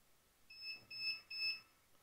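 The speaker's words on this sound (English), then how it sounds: "it's going to beep." Three short electronic beeps in an even rhythm, faint and high-pitched, against a quiet room, from a Guardian 628 garage door opener signalling its settings are set.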